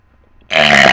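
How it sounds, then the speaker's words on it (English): A child lets out one loud, raspy burp that starts abruptly after a moment of near silence and carries on to the end. "So therefore, they are real burps."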